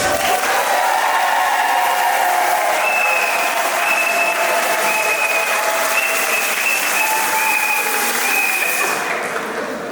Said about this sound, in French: Et nous applaudissons.